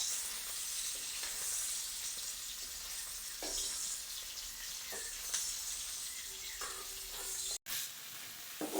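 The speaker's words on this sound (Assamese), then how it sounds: "পিঁয়াজ নহৰু এইখিনি অকণমান ৰঙচুৱা কৰি ভাজি লওঁ" Onion and garlic fry in oil in a kadai, sizzling as a steady, moderately quiet hiss with a few scraping stirs and a brief dropout near the end, with no talk.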